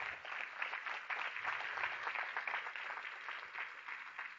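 Moderate applause rises from an audience at a 2016 LGBTQ healthcare policy event, a steady even patter of many hands clapping, heard at a distance and somewhat thin.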